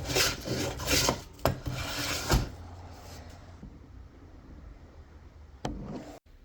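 A file rasps against wood while shaping a tiny guitar body, several quick close scraping strokes early on, then quieter rubbing and a final short stroke before stopping.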